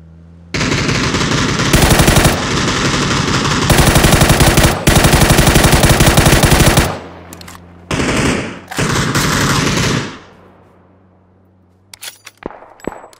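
Beryl assault rifle firing in PUBG: several long, loud sustained bursts of automatic fire separated by short pauses, with metallic clinks at the end.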